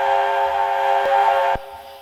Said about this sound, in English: That's the secondary Chinese 5 chime.